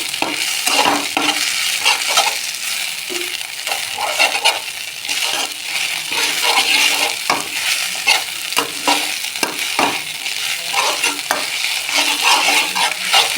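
Ground taro leaf paste fries in a pan while a spoon stirs it continuously, giving steady loud sizzling broken by frequent scraping clicks against the metal, with no voices.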